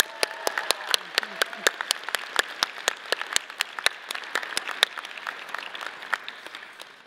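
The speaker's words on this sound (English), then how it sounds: "Dean John Hayes, just another round of applause, please." Applause at a Colorado State University commencement ceremony for the Warner College of Natural Resources, a steady crowd of many hands clapping with sharp individual claps standing out, continuing loud and even throughout.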